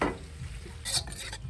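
Eggplant, green beans and chili stir-fried with scallions in a wok, with soft sizzling under brief clinks and scrapes of a utensil stirring, no talking.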